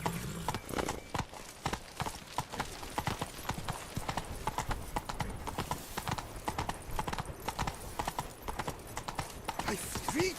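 Galloping horse hooves from The Witcher 3: The Beast of Toussaint on PS4 pound in a quick, steady clip-clop rhythm, loud and close throughout, without talk.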